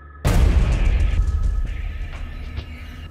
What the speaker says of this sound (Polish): Rozległ się huk, jednak nie wystrzał z pistoletu, a otwieranych z impetem drzwi.